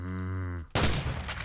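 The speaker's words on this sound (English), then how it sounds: "That's a very powerful gun there you got there, Mr. Incredible." A gun firing in Minecraft opens with a low droning tone, then gives way to a loud, rapid burst of shots that continues to the end.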